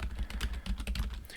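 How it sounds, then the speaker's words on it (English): Rapid keystrokes on a computer keyboard while writing programming notes, a close, continuous run of soft clicks with no pauses over a short burst. "I'm going to type in here what writeLine does"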